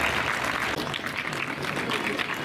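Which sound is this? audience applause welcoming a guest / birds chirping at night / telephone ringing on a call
audience applause welcoming a guest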